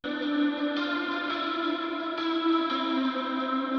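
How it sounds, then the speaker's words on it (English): A sustained synth-like tone drenched in reverb with a wide, shimmering chorus, swelling slightly as it holds steady. "To create ambience from this, all I need is actually a reverb."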